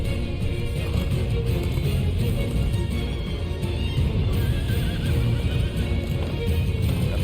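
Horse in the video game Final Fantasy XVI whinnying loudly over clip-clopping hooves, a close, dense stretch of neighs and hoofbeats with no talk on top.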